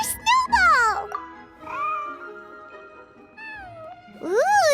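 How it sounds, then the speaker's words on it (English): A white fluffy cat named Snowball in Genshin Impact meowing, several high, drawn-out, rising and falling meows, close and clear, with a voice speaking between them. "Here, kitty kitty! That's it, Snowball! Good kitty!"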